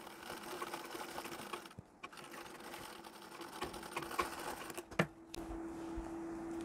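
Sewing machine stitching a saree, a faint steady mechanical whir with a constant hum, briefly pausing and clicking before resuming, quiet and close.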